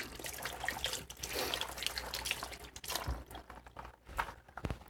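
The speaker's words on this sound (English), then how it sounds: "And wash our hands and our knife a little bit." Cold tap water runs over hands and a kitchen knife in a home kitchen sink during steak prep, a steady close splash and trickle with drips, no talking.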